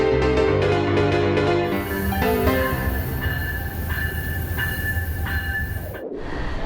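A passenger train in the United States rumbles steadily along the rails, with a loud, continuous mechanical drone and a sustained tonal whine over the top; no voices.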